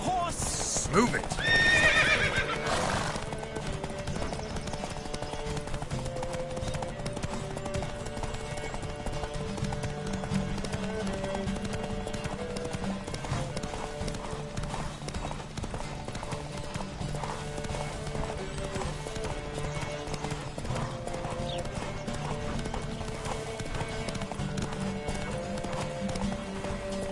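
Horses gallop in a race in The Witcher 3, a steady rush of hoofbeats under wind and music, with a loud burst at the start and voices calling out.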